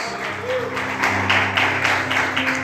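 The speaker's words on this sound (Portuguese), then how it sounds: "Aplauda o Senhor mais forte." Church congregation claps and praises in a moderate, uneven wash of applause, with sustained musical tones underneath and bursts of clapping growing stronger toward the end.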